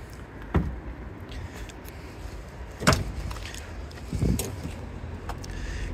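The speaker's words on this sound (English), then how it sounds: "I'll just open the back door and show you." The back door of a 2008 Auto-Sleeper Symbol campervan being opened, with three separate soft thuds and clunks from the latch and door, fairly close, over a quiet background.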